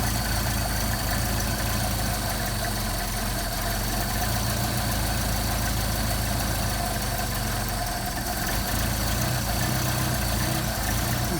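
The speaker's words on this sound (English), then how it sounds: "You see, we're getting a little movement here, which is your fast idle, which you can see, or you can hear." A Mercedes 190SL engine with rebuilt carburettors runs at fast idle, a loud, steady, close rumble with an even low throb, heard alone.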